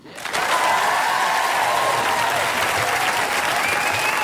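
A studio audience at a comedy panel show breaks into loud, sustained applause that starts abruptly and continues evenly throughout.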